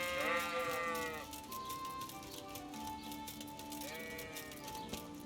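Sheep in Kingdom Come: Deliverance give faint bleats, one at the start and another about four seconds later, over a quiet outdoor background.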